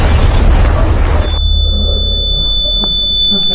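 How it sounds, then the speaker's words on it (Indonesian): A film explosion of mixed explosives bursts as a loud, broad roar for over a second, then cuts to a low lingering rumble with a thin steady high ringing tone hanging over it. "tiba-tiba racikan itu meledak dan membuat semua yang ada di tempat itu mati berkeping-keping"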